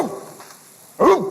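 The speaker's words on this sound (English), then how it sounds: "I hear a dog barking." Dog barking as a stage play sound effect, two short sharp barks, one at the start and a louder one near the end, separated by quiet.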